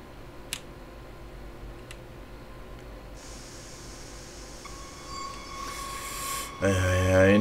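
Train running through a city in the Train Sim World game, Leipzig rapid transit line, with a steady low rumble and faint ticking that swells near the end into louder, brighter rolling and brake squeal.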